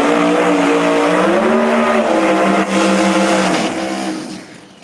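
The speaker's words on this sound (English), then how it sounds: "Oh, that is Morello's Mustang." A Ford Mustang drag race car at a no-prep drag strip event at Galot Motorsports Park launches with a loud, close engine roar that climbs in pitch, then fades away near the end.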